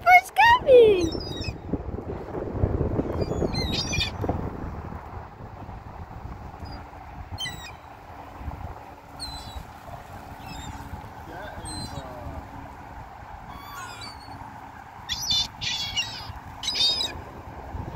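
Outdoor birds come in to be fed, giving scattered chirps and squawks, some close and sharp, over a low steady background while people talk nearby.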